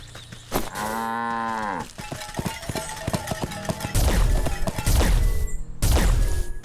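A cow in the video game Wytchwood gives one long, close moo while being milked, followed by a series of sharp cartoonish clacks and louder crashing effects.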